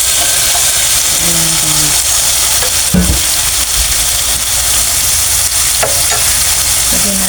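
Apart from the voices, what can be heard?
ampalaya (bitter gourd) sizzling as it is added to the pan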